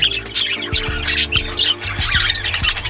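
A cobalt, yellow-faced, light blue-bellied budgie squawks in short, loud, harsh bursts close by, with repeated chirps and no talking.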